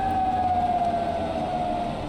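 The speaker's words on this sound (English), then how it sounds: "There's air raid sirens on a train." A video game air raid siren on a train wails steadily at one pitch, moderately loud with a low rumble underneath and no voices.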